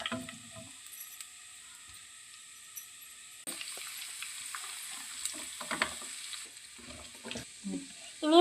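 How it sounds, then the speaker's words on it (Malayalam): Sliced onions sizzle in hot oil with curry leaves, a steady frying hiss punctuated by stirring scrapes and small pops, growing livelier partway through, close by. "ഇനി നമുക്ക് സവോള ഇട്ട് കൊടുക്കാം"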